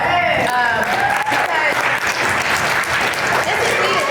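An audience at an ovarian cancer awareness event breaks into loud, continuous applause with cheering voices mixed into the clapping.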